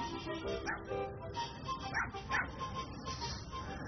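Dogs bark and yip while chasing a grounded, overweight vulture that hops and cannot take off, short barks scattered at moderate distance over busy outdoor background noise.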